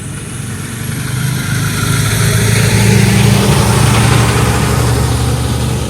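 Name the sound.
big delivery truck engine passing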